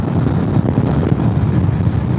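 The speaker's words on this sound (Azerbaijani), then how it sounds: "Külək də var hal-hazırda." Steady, loud wind buffeting against the microphone while riding a 2023 Suzuki GSX-S1000GT motorcycle on a hot evening, a continuous low roar with no gaps.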